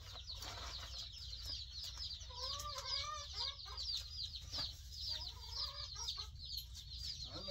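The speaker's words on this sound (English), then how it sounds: "since I got chickens. More chickens." Several chickens cluck and chatter continuously at close range, with overlapping calls and some higher squawks over steady background noise.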